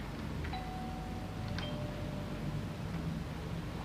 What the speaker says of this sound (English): Is the bell working?